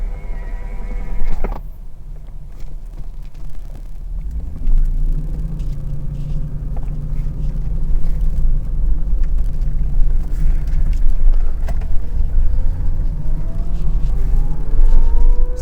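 A 1990 Toyota Supra Turbo engine drones steadily from inside the cabin as the car pulls away and cruises, a low continuous rumble that swells gradually louder over the drive, with no talking.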